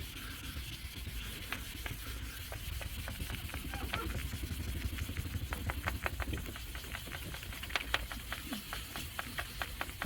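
Hand-sanding the plastic lens of a 2008 Chevy Impala headlight, a steady close rasp with rapid rhythmic strokes that quicken and sharpen toward the end, over a constant low background hum.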